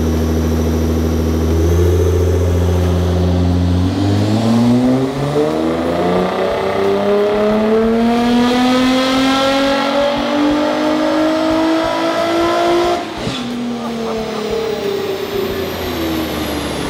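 A tuned Nissan R35 GTR on a dyno revs hard, engine pitch climbing steadily through a long pull before a sharp drop-off, loud and close with no talk over it.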